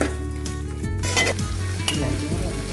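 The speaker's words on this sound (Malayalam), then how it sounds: "മസാലയും അതുപോലെ ചിക്കനും കൂടെ നല്ല പോലെ ഇളക്കി ഇതിലേക്ക് യോജിപ്പിക്കണം" Chicken and masala stirred in a frying pan for Kerala-style pepper chicken, a steady close sizzle under repeated scraping strokes of a spoon against the pan, with no voices.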